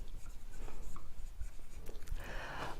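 A pen writes by hand on paper in a quiet room, producing soft, irregular scratching strokes and taps close by, with a brief faint rustle near the end.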